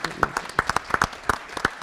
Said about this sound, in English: please give our sixth graders a big round of applause